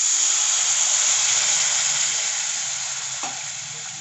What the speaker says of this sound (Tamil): பாருங்கள், இப்போ தான் கொதி வர ஆரம்பிக்குது